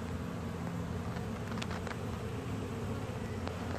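Honeybees buzz steadily throughout a hive inspection, with a dense continuous drone close by and occasional louder passes of individual bees.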